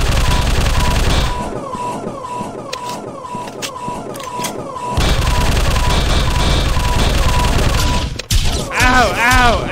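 Rapid bursts of gunfire from the video game Machine Hunt, a rhythmic run of sharp repeated shots filling the first half, then dense mechanical noise with warbling electronic tones near the end.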